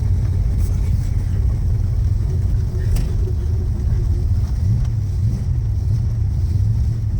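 A 1969 Plymouth Barracuda with a 383 engine and four-speed manual, a garage find on its first drive in decades, rumbles loud and steady from inside the cabin while people talk over it.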